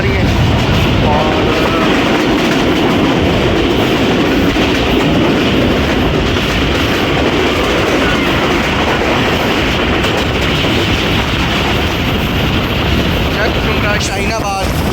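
The 41 Up Karakoram Express runs from Faisalabad toward Lahore near Jhang Jhumra junction, its rails giving a loud continuous rumble with clickety-clack and wind buffeting, recorded close from aboard the train.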